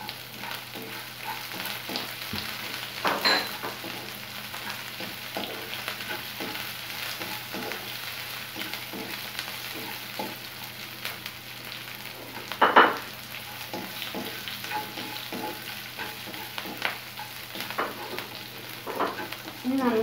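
Ginger, garlic and green chilli fry in a pan for a dates pickle, giving a steady, close sizzle with occasional spatula stirs and a louder clatter of the utensil partway through.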